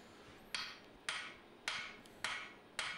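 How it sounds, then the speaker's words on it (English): Hammer planishing forged knife steel at low heat, five sharp ringing strikes spaced about half a second apart, each with a short metallic decay, close and alone. "using this low heat, I'm just planishing the material"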